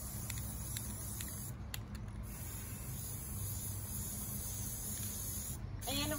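Spray paint hisses from a can onto a pumpkin painting in short bursts, faint and close, with a rattling mechanical click near the end.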